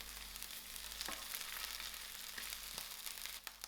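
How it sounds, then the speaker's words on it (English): Onions, ginger and garlic sizzle in hot oil in a pan, a steady close crackle with a few scraping stirs. "we are braising it with onions. I'm adding in my ginger and garlic"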